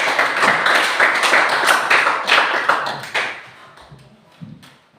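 A school class applauds after a group presentation, a lively burst of close hand claps that holds for a few seconds, then fades into a few scattered claps and quiet room noise.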